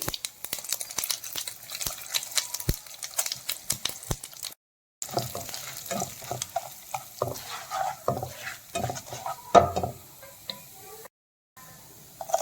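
Mustard seeds with chana dal and urad dal frying in hot oil in a pan for ragi upma, giving a close crackling sizzle with sharp pops and stirring, broken by two brief silent gaps.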